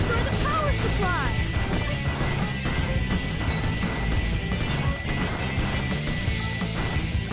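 In Sonic Adventure 2, the power supply is smashed amid dense game noise: repeated crashing and whacking impacts over busy music and effects, steady and loud throughout, with a siren-like tone in the background.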